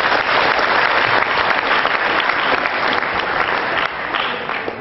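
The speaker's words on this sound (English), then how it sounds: "Round of applause for him" An audience at a renewable energy conference gives a loud, sustained round of applause, a dense wash of many clapping hands that eases slightly near the end.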